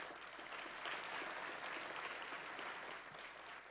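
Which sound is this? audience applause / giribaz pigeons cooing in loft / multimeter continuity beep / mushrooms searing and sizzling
audience applause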